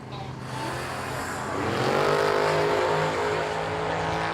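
A Dodge wagon and an 88 Buick launch side by side at a drag strip, engines roaring loud and building into a sustained, rising revving drone, with some background chatter.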